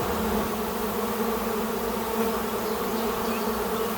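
A large swarm of honey bees produces a dense, continuous buzz, loud and close, holding steady without a break and with no voices over it.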